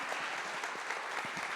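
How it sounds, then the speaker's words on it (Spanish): Applause from a seminar audience fills the room as the panelists are thanked, a dense, even wash of many hands clapping, heard somewhat distantly and without pause. "Un gran aplauso para ellos."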